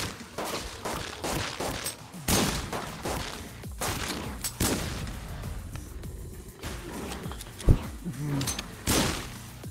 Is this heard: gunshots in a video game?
yes